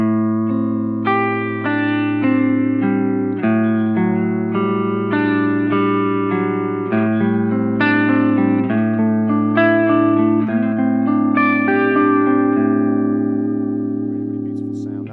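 A clean electric guitar plays chords and notes through a Chase Bliss Audio Warped Vinyl pedal's triangle-wave tremolo, its volume pulsing smoothly up and down in an even, regular throb.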